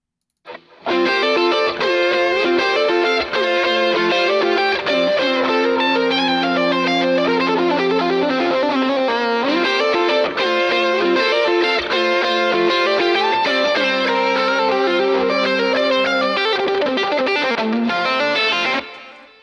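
Layered distorted lead guitar lines run through an Archetype Mateus Asado amp preset, fast melodic phrases stacked together, loud and continuous for about eighteen seconds without speech.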